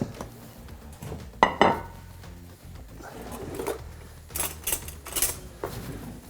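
A plate set down on a table in a kitchen, a couple of sharp clinks of crockery among soft handling clatter and light rustling, close by.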